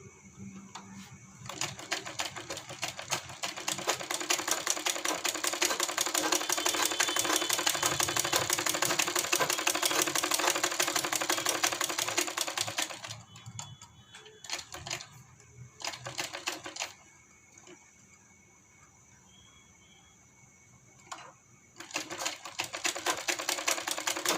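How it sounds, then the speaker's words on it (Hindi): An electric sewing machine runs a line of stitching along the edge of fabric for an angrakha garment. It gives a steady, close mechanical whir for about twelve seconds, then stops. Shorter bursts of stitching follow, with quiet pauses between them. "तो बिल्कुल किनारा करते हुए सिलाई लगा लेते हैं इस टाइप से"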